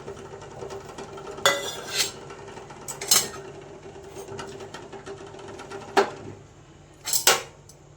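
Boiled eggs lifted out one by one onto a plate, a few sharp clinks and knocks of a spoon against metal or ceramic spaced a second or so apart over a low background hiss.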